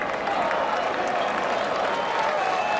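A golf gallery at the final round of the 2016 KPMG Women's PGA Championship applauds and murmurs steadily as a putt rolls toward the hole, a continuous wash of clapping and crowd noise throughout.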